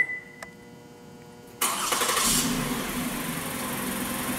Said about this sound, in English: The vehicle will receive the command and in a few seconds the car will start.